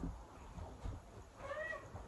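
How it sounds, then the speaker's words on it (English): A male house cat meows softly indoors, one short drawn-out call rising and falling near the end, faint against quiet room noise. "My cat is coming back. He's talking to us."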